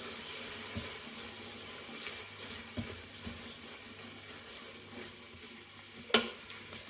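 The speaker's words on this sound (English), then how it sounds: "Washed rice. Put that in there. And then stir it through." Washed rice being stirred into prawn paella in an Instant Pot, a faint hiss and sizzle with soft, scattered scrapes and taps of the spoon against the pot.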